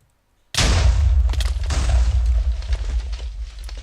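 A chaos cannon in Minecraft fires after brief silence, setting off a sudden loud explosion followed by a string of booming, crackling blasts that rumble on and slowly fade.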